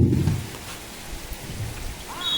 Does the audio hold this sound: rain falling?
yes